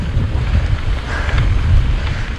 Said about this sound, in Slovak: Stále bojujeme s vetrom.